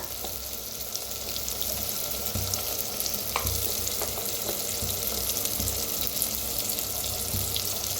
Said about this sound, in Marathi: बाकी आता छान असं भाजून घेऊया सगळं मिक्स करून.